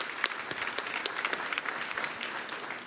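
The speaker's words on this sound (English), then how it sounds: "let's have a round of applause for that." An audience claps together in a steady burst of applause lasting a few seconds, moderately loud and fairly close.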